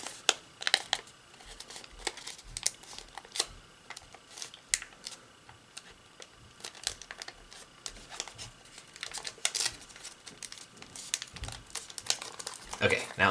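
Paper crinkles and rustles up close as origami paper is folded into a bat, with edges brought to the middle, in continual crisp crackles and taps with occasional louder snaps, and soft voice-like sounds at times.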